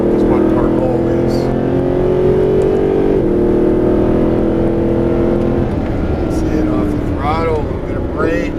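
A Mercedes SLS AMG engine pulls steadily on the throttle through a tight corner, a sustained tonal drone rising slightly in pitch, loud and close, with a voice talking over it near the end.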